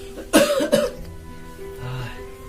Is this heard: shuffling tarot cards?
no